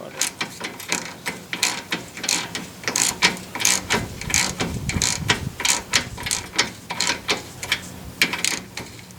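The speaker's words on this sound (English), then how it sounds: "a breaker bar with the socket I prepared earlier. Just take that nut off." A breaker bar fitted with a socket undoes a car's tie rod end nut, making a rapid ratcheting clatter of closely spaced clicks in quick rhythmic strokes, close and steady throughout with no talking.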